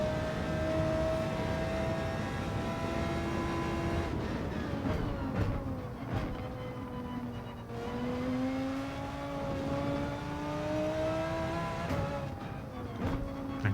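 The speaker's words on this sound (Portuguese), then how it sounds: "E vão curtindo aí o barulho interno dentro do carro." In Gran Turismo 7, a car's engine drones continuously from inside the cabin, with the pitch rising and falling through gear changes as it accelerates. No talking.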